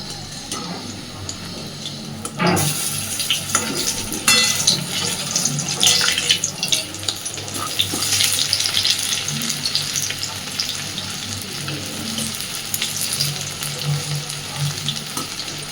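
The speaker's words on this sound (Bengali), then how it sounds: "তো এইভাবে আমি সবকটা বড়া কোফতাগুলো ভেজে নেব আগে।" Banana flower koftas fry in hot oil with a steady, crackling sizzle that swells after a quiet start and holds throughout, close and with no talking.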